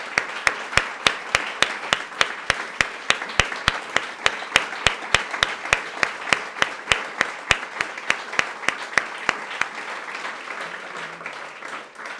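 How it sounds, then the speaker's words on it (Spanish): Applause rises from an audience at a religious freedom awards ceremony, with sharp, evenly spaced claps cutting through a dense, steady roar of clapping. It fades out after about ten seconds. "Un aplauso a Ronald."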